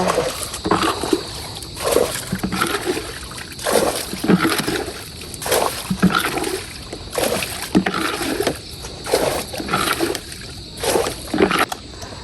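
A small boat moves through a fishpond with rhythmic paddle splashes and sloshing every second or so, close by, over a steady outdoor hiss.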